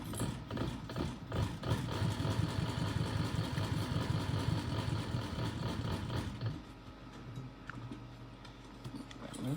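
An old sewing machine stitches a zipper pouch with a steady, fast mechanical clatter, running close and continuous for about six and a half seconds, then slowing to a softer hum of rattles.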